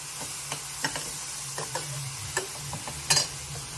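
Saffron-infused milk stirred into sheer khurma in a pot, with a soft steady simmer and light scraping, plus scattered clinks and taps from the spoon. There is no talking.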